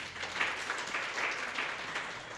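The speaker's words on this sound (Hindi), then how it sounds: "तो अपने देश भारत के लिए तालियां बजाओ।" Faint, steady clapping from an audience at a talk, continuous and soft throughout.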